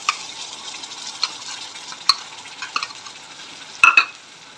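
Tomato puree goes into frying masala and gets stirred. A soft sizzle runs throughout, with a spoon clicking and scraping against the pan in several distinct knocks.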